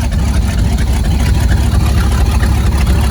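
A Buick big-block engine with an exhaust leak runs loudly and steadily, a thick low rumbling drone close by without any breaks.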